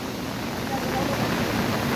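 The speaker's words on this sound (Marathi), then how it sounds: "पाऊस देखील खूप पडत आहे आणि पाणी नदीचा कमी होत नाही पाणी वाढत आहे नदीचा" A continuous, even roar of heavy monsoon rain and fast, rising river water at Anjap, Karjat, filling the whole short stretch with no voices.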